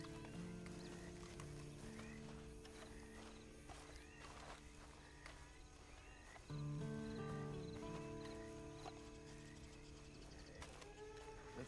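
Hooves clip-clop at a walking pace in Red Dead Redemption 2, faint irregular thuds set against a low steady hum, with a brief horse snort partway through.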